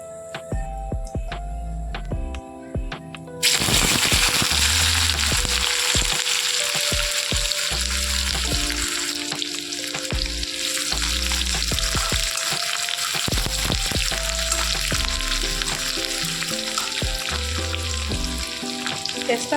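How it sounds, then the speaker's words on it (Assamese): Chopped onion hits hot oil with cumin seeds, bursting into a loud, steady sizzle that keeps going, with clinks of a utensil stirring in the pan and no talking; the dish is duck curry. "জিৰাখিনি গৰম হৈছে। ইয়াতে মই কাটি ৰখা পিঁয়াজ দিম।"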